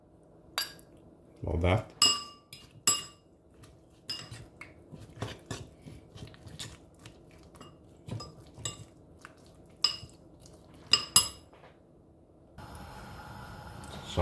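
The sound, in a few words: beating half an egg in a bowl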